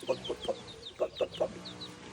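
Chicks and hens make soft clucks and short chirps in a quick, irregular series, with some higher peeps mixed in, close by and fairly quiet.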